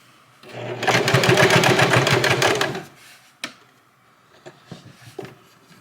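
A sewing machine runs steadily for about two and a half seconds, stitching a single line across the bottom of True Religion denim jeans, then stops, followed by a few soft clicks and handling knocks.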